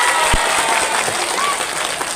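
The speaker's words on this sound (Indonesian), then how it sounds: "Tepuk tangan dulu dong." Applause from a women's audience at an Islamic religious talk in a Javanese village, a steady broadband patter of many hands filling the whole short stretch at moderate loudness, with no voice over it.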